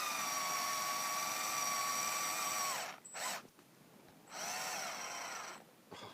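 A power drill drives screws through plastic into metal parts of a Printrbot Smalls 3D printer's Z axis, whining steadily for about three seconds, then a short burst and another longer run after brief pauses.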